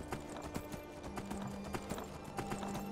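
Steady horse hooves clip-clopping at a walking pace in the video game Skyrim, close and evenly rhythmic over a low background hum.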